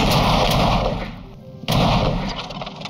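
A genuine antique cannon is test-fired outdoors, giving loud booming blasts with a short rumbling tail between them. There is no talk over it.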